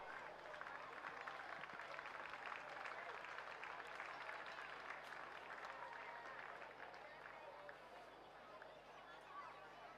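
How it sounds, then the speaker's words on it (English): Steady applause and cheering from a grandstand crowd at a schoolgirl rowing regatta on the river, as a Year 8 double scull crew crosses the finish line; continuous broad clapping with crowd murmur throughout, no single voice standing out. "let's give this boat from Monty a round of applause"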